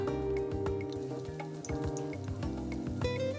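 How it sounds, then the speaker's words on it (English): Sorullos con queso frying in a pan of hot oil, a dense continuous sizzle with small pops and crackles, close and steady throughout. "I'm gonna get ready to start frying these up"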